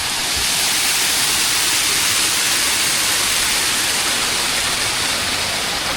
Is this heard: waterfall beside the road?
yes